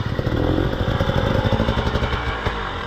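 An enduro motorcycle engine runs in a forest, a loud, choppy two-stroke-like putter with rapid uneven revving pulses, close by and alone with no talking.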